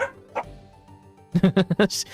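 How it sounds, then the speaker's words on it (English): A dog barks in a quick burst of five or six sharp, close yaps at a can it knocked over, after a lone earlier yip, with a brief whimper-like sound at the end. "she is now barking at the can because the can is not playing with her"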